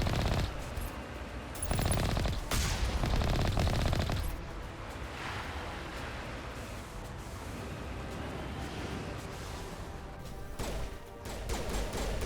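Sustained artillery and gunfire during a battle in the Mass Effect 1 video game on Virmire: dense, continuous bursts of shots and blasts, loudest early on, then a steady rumbling barrage with scattered impacts throughout.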